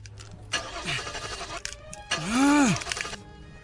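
A car engine fails to start, with two labored cranking attempts that rise and sputter out without catching, heard fairly close.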